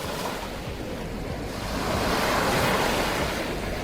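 Waves wash steadily onto a rocky lake shore along a fossil-rich rock shelf in Ontario, a continuous loud rush of surf with wind buffeting the microphone.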